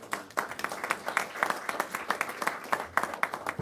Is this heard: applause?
yes